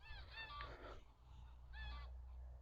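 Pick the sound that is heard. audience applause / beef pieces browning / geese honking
geese honking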